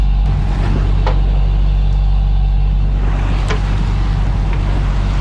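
A sailboat's inboard engine drones steadily while under way on a beam reach off Ireland's west coast, a loud, constant low rumble with a few faint clicks over it.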